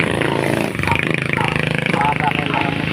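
Motorcycles pass by below, a steady, loud engine drone running through the whole stretch, with voices talking over it.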